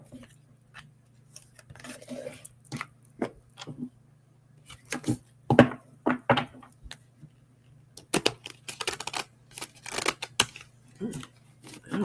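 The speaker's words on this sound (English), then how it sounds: "That was a horrible shuffle." Oracle cards being shuffled by hand during a reading, heard as a run of quick, irregular papery riffles and taps, close by and fairly quiet, over a low steady hum.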